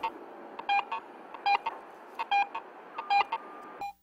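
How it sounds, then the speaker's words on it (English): Garrett AT Pro metal detector in Pro mode using tone roll audio, a series of short electronic beeps rising and falling in repeated bursts as the coil sweeps, over a steady hiss. "Another feature called tone roll audio allows you to hear changes in the target's conductivity as the coil passes over."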